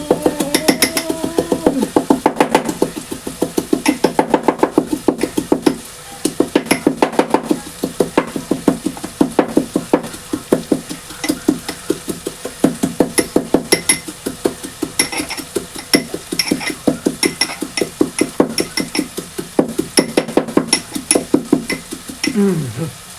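Ginger-garlic paste pounded in a stone mortar at home, a long run of sharp rhythmic thuds and knocks, close and loud, steady beats with short pauses, while a voice talks at times underneath.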